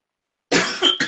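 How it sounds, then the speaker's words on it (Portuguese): A single harsh cough, a short burst followed by a second quick hack after a moment of silence. "Veio uma tosse aqui."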